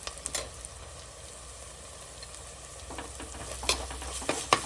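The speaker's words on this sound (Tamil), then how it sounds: "இஞ்சி பூண்டு பேஸ்ட் வாசனை போகிற வரைக்கும் பச்சை வாசனை போகிற வரைக்கும் நல்லா வதக்கிடணும்" Curry leaves and ginger garlic paste sauté in hot oil for a Tamil mutton kuzhambu, giving a steady close sizzle with a few scraping stirs that grow louder toward the end.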